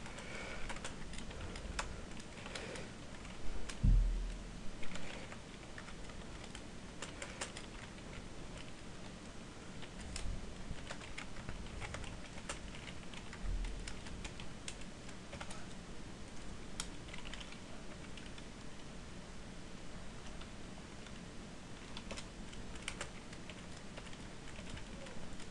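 Computer keyboard typing code in Visual Studio 2008, heard as steady, quiet, close clicking keystrokes in irregular bursts across the whole stretch, with no talking.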